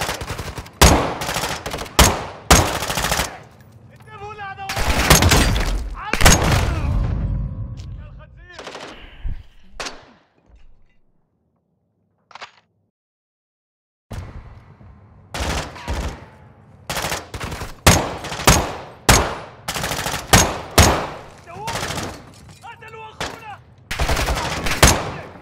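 Dense bursts of automatic gunfire from Call of Duty Modern Warfare 2, loud and close, rattling in long volleys with a short quiet gap midway before the shooting resumes.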